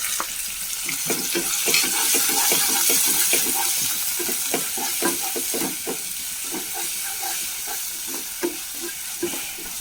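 Chopped onion, ginger, green chili and curry leaves sauté in a pan for tomato upma. A steady sizzle sits under repeated scraping stirs of a spoon against the pan, close and fairly loud.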